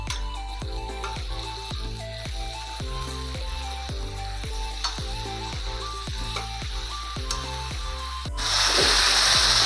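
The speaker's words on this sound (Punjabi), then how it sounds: "ਕੱਟੇ ਪਿਆਜ਼ ਤੇ ਟਮਾਟਰ ਪਾ ਦਾਂਗੇ ਥੋੜਾ ਜਿਹਾ ਪਾ ਦਾਂਗੇ ਨਮਕ ਕਿਉਂਕਿ ਨਮਕ ਆਪਾਂ ਬਾਅਦ ਚ ਵੀ ਪਾਉਣਾਗਾ ਇਹਨਾਂ ਨੂੰ ਮਿਕਸ ਕਰ ਦਾਂਗੇ" Chopped onions and tomatoes with eggplant sizzle loudly in a pan, stirred in a steady repeating rhythm of scrapes, with a sudden hotter hiss swelling near the end.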